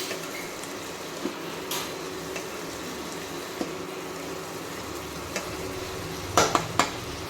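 Potato, capsicum, beans and carrot cook together in a wok for chowmein, a soft continuous sizzle with occasional light stirring scrapes and a few metallic clanks near the end.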